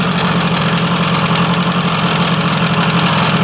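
A water-cooled Zundapp KS 50 moped engine idles slightly high before warming up, with a loud, steady, close buzzing putter that holds an even rhythm throughout and has no talk over it.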